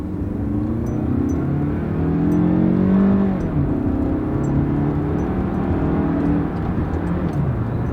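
A car with a fault that limits its speed pulls away from a stop, the engine's steady, close drone rising and shifting in pitch with the cabin road hum underneath.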